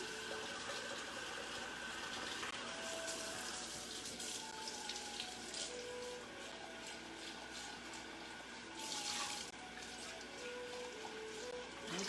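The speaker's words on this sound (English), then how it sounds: "when the water is hot, I'll rinse out the cup so that the cup is not so cold." Hot water runs steadily from a kitchen tap into a cup being rinsed, a continuous close splashing hiss that holds for several seconds with no talk over it.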